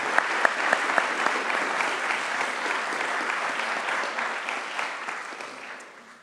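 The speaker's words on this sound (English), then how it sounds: "Give her a round of applause." An audience at an awards ceremony breaks into a dense round of clapping with a few sharper claps at the start, then tapers and fades out after several seconds.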